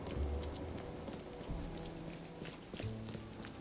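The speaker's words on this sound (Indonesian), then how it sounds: "Selalu hujan" Rain in the video game The Sinking City makes a soft, continuous patter, with scattered thuds of footsteps and a low rumble mixed in, at moderate level and without speech.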